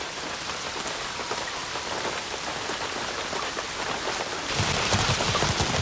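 Rain pours steadily onto rainforest leaves, a dense, loud, continuous patter that swells slightly heavier toward the end, with no voices.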